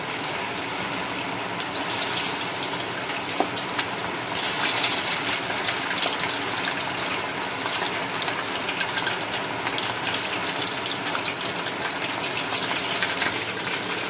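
Chicken pieces for a crispy chicken starter fry in hot oil, giving a steady, dense sizzle that runs unbroken at even loudness throughout, with no voices.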